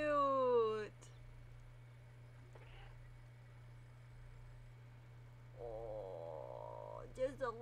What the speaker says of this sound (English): the cat is purring.